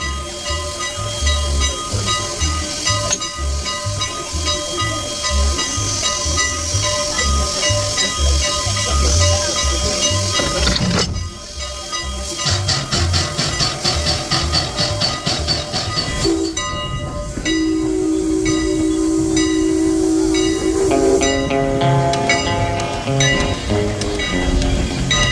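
Steam locomotive No. 89 on the Strasburg Railroad hisses steadily beside a passenger train, with rumbling cars, clanks and shifting mechanical tones over a long stretch, loud and close.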